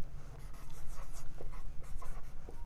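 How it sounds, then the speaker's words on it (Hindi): A pen or marker scrapes and squeaks across a board in short strokes under a constant low hum, close and moderately loud. "यहाँ लिखते हैं"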